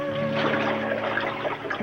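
Liquid is poured into a tray of water during darkroom photo developing, giving a steady, close, rushing splash that lasts the whole brief moment with a faint tonal hum beneath.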